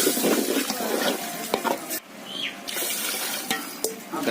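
Water pours and splashes into a cooking pot for a village fish curry, a steady rushing stream with a brief pause partway through and a few light clinks.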